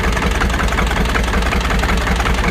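An old Farmall 282 tractor engine runs steadily at idle, a loud, close, continuous low rumble with a fast knocking pulse and no voices.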